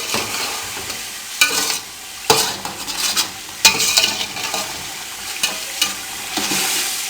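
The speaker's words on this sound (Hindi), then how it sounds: "अब इसको अच्छी तरह भून लें।" Chicken and peas for pulao sizzle as they fry with cardamom in a pot, with repeated scraping and clinking as a spoon stirs, sharp metallic knocks punctuating the steady hiss.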